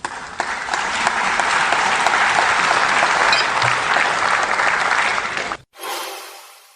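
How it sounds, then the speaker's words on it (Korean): Loud, sustained applause from a large assembly fills the hall during a South Korean presidential address to the National Assembly, steady for several seconds before cutting off abruptly. "이쯤에서 박수가 터져나왔던 걸로 기억하는데"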